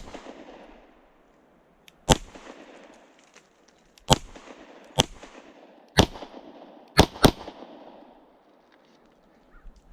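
Six sharp gunshots from a CZ Shadow 2 Compact pistol fired single action with a mixed bag of ammunition, spaced unevenly over several seconds, the last two close together, with quiet in between.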